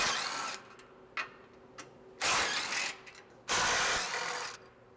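A 12 mm ratchet loosens the front support tube bolts under a 2016-2023 Toyota Tacoma, giving several bursts of rapid clicking, two long and close, with short quieter pauses between them.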